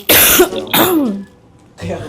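Two short, harsh coughs or throat-clearing bursts close to the microphone, followed by a brief pause and a softer vocal sound.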